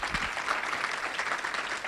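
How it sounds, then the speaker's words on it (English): A convention audience claps continuously, moderately loud and even, a sustained burst of applause with no speech over it. "Give yourselves a round of applause, please."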